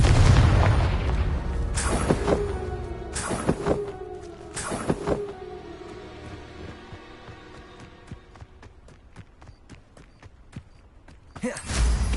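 A Confringo spell explosion in the Hogwarts Legacy video game, with several loud, booming blasts in quick succession, followed by scattered clicks and light rumbles and another burst near the end.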